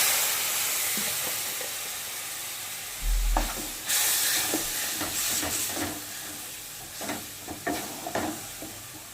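Spices (cumin powder, turmeric and chili powder) hiss and sizzle in a pan after water goes in, for a prawn malai curry. A steady broad sizzle runs throughout, with scattered sharper stirring scrapes and clinks.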